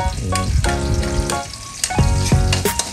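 Onions sizzle as they are sautéed first in a pan for ginisang mungo, a steady frying hiss with stirring scrapes and clinks, loud and close, and a single short word spoken briefly.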